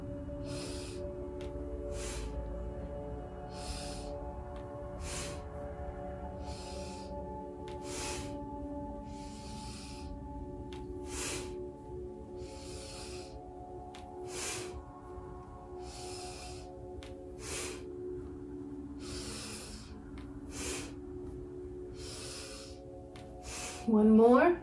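Quick, rhythmic breaths during a guided deep-breathing exercise, each inhale and exhale a short hissing rush repeating steadily and close over a soft sustained musical backing, with a louder burst at the very end.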